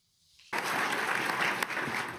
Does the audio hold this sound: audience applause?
yes